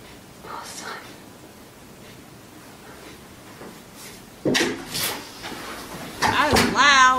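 A quiet room, then a loud door bangs open and later thumps shut again, with creaking and rattling between the two bursts.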